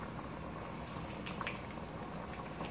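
Oil sizzling and bubbling in a pan as food fries over medium heat, a steady dense crackle with scattered sharper pops, close and fairly quiet throughout.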